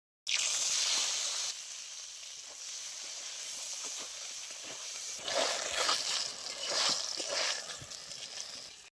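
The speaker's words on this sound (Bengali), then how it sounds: "মাছ ভাজা তেলের মধ্যে আমি বেগুনটা হালকা ভেজে নেব।" Eggplant pieces fry in leftover fish-frying oil in a home kitchen pan, giving a soft, steady sizzle with some hiss. The sizzle grows louder and more crackly toward the end.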